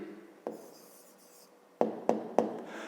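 Writing down a surname as the answer in a fifth-grade maths exercise: one scratchy stroke, a pause, then three quick strokes in a row, close and moderately loud, with no talk.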